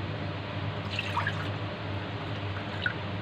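A cup of water, about one and a half cups, poured into a kadhai in a home kitchen while making suji malai barfi: a steady, fairly quiet splashing trickle that runs the whole time, with no talking.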